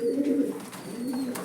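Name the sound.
pigeons cooing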